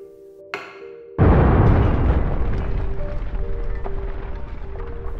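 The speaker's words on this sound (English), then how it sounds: "The explosion threw Yamaguchi to the floor." Sound effect of the atomic bomb over Nagasaki: a brief tone and sharp crack, then a sudden massive, loud boom that rolls into a long, rumbling roar and debris noise, with no talking.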